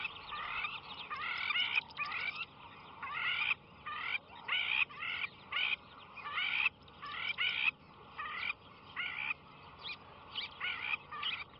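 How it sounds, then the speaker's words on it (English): An African bird call in the wild, a series of loud, repeated raucous phrases in uneven bursts with short gaps between, close and clear over a quiet background. "this is what they sound like. They've got this fantastic, another quintessential African bird call"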